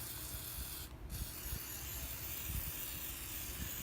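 Flex Seal is sprayed from a can onto a PVC and foam Thor hammer in a steady, close hiss, briefly interrupted near the start before continuing.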